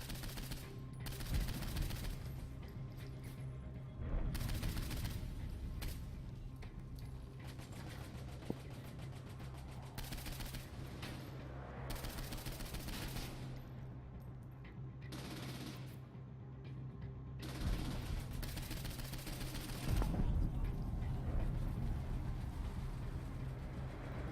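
Sustained bursts of automatic gunfire from the video game Saints Row 4, with rapid firing stretches broken by short pauses and a steady game soundscape underneath.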